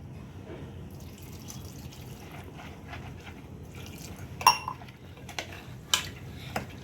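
A spoon clinks and scrapes inside a pot while liquid sloshes gently as salt and water are mixed into banana stem kootu, a few sharper metallic taps standing out near the end.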